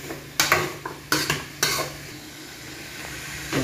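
Carrots stirred in a frying pan for paklay, a spatula scraping and clanking against the metal pan in several sharp strokes over a soft sizzle, close by with no talking.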